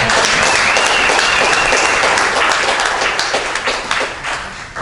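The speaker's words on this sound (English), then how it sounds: "Round of applause for this." Strong, dense applause from an audience honoring a panel speaker at an Art Deco talk, steady throughout and tapering slightly near the end.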